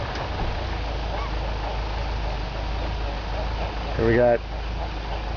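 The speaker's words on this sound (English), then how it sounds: "piggyback seagulls. They were doing a cool little mating routine right before this" Seagulls performing a mating ritual give one short, loud burst of repeated calls near the end over steady outdoor noise, while a person talks.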